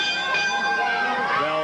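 A ring bell at a 1985 Memphis televised wrestling match sounds a sustained, ringing metallic tone over a noisy arena crowd.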